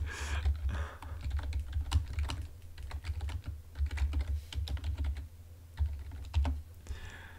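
Fast, uneven keystrokes clatter on a computer keyboard in bursts and pauses, close and clear, with no one speaking over the typing.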